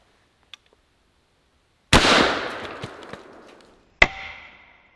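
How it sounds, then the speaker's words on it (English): An old-school Palmetto shotgun fires a single loud outdoor blast that rolls off into a decaying echo, followed about two seconds later by a sharper crack as a can of coffee downrange is hit. "let's give the Palmetto a crack at our can of coffee downrange"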